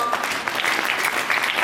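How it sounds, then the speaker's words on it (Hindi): Applause from women seated at a Shrimad Bhagavat Katha religious discourse, a short burst of steady, fairly loud clapping with no talk over it. "तालियां बजाया करो"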